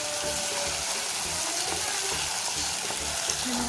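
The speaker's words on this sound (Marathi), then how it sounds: "आता यामध्ये आपण आता मसाले घालून घेऊया." Spices fry in hot oil with ground masala paste for a Marathi mutton curry, a steady close hiss and sizzle broken by light rhythmic stirring scrapes.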